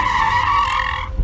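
A car skids to a stop by a river with a sustained, loud tire squeal that lasts about a second and fades out at the end.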